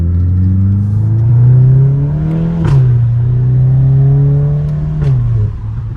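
A Volkswagen MK8 GTI pulls hard under acceleration, its exhaust droning loud and close as the revs climb through two gear changes, each marked by a short dip in pitch before the engine builds again, with no talk.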